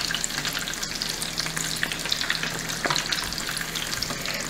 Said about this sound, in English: Don't go away and leave these frying.